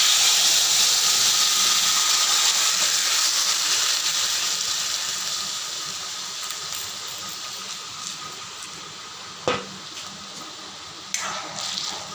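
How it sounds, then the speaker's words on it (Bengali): Fennel seeds, bay leaf and dried red chilli hit hot oil for a Bengali biuli dal tempering, setting off a loud steady hiss that slowly fades, with a couple of sharp clicks near the end and no one speaking. "মৌরি দিয়ে দিলাম তেজপাতা শুকনো লঙ্কা"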